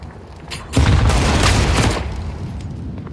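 A single grenade detonates in Counter-Strike with a loud, close boom that rolls on for about a second before fading into quieter game ambience.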